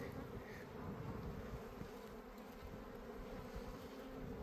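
Carniolan honey bees drone steadily at a hive in a remote mountain area of Iran, a dense continuous buzz of many insects close by with no voices.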